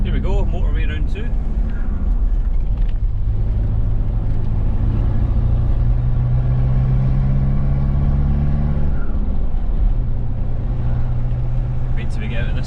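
A Mitsubishi L200 K74 diesel pickup, fitted with a boost controller, accelerates on the motorway. The engine drones loud and close inside the cab with rising harmonic tones that sweep upward and then settle, and a voice speaks briefly over it.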